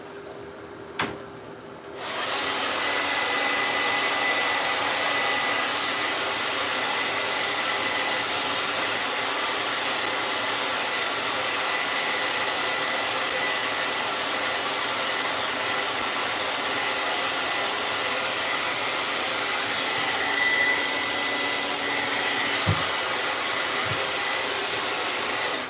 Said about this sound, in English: I'm going to hit it with the blow dryer and then we'll spray it.